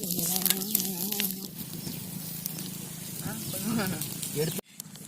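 Catfish fry in hot oil at an outdoor village cooking setup, a steady sizzle and hiss running under people talking nearby, with a brief dropout near the end.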